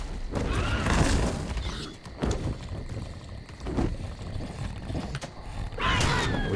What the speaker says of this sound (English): Maybe this horse?